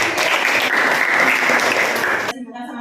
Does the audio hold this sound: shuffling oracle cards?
no